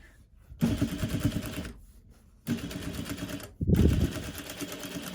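A sewing machine stitches a cloth face mask close to a nose wire, in three bursts of rapid mechanical running separated by brief pauses, loud and near.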